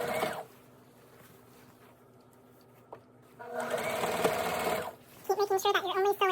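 A sewing machine stitches denim strips for a patchwork skirt: a short run at the start, a quiet pause, then a longer steady burst of stitching nearby, followed by someone speaking.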